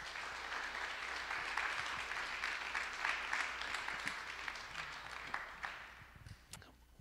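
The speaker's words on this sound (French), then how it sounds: "Je voudrais qu'on puisse applaudir également Émilie qui est avec nous" At a lecture on democracy and human rights, an audience claps for the Farsi translator, a steady wash of applause heard from a distance that thins out into a few last claps.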